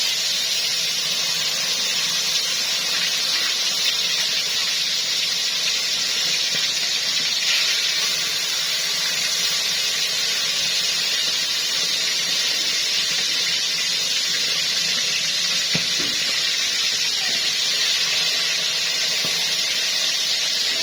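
Fish frying in a hot pan on a stove, a steady loud sizzling hiss that continues evenly throughout with no talking.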